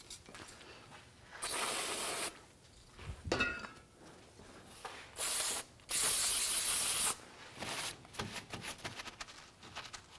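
Brake cleaner is sprayed onto the rear brake area of a 2007-2013 Acura MDX in several sharp hissing bursts of varying length, separated by brief pauses and faint handling noises.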